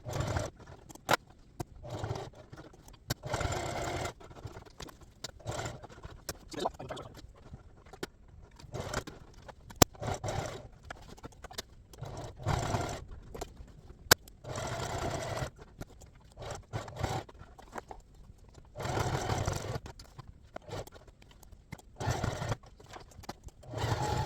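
A sewing machine stitches sleeve numbers onto a hockey jersey, running in short and longer bursts of rapid rattling with brief pauses between, moderately close.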